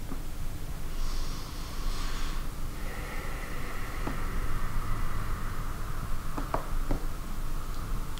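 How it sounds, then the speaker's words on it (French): Slow breathing during a prenatal yoga session, a soft airy exhale standing out for about a second, then a long steady flow of breath under faint room hiss, with a few small clicks near the end. "On continue à respirer."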